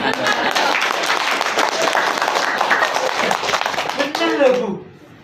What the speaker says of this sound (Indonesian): tepuk tangan itu yang keras dan ikhlas